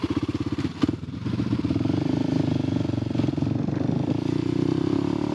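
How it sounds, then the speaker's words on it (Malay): A motorcycle engine with a fault runs roughly on a road trip toward the Kra Isthmus: a steady, close, low throbbing idle with uneven pulses and a brief clattering stumble early on, sounding strained rather than revving freely. "Walaupun boleh start, enjin agak semput dan tak boleh laju"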